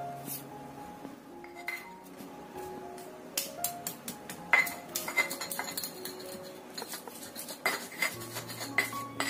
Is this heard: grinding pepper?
yes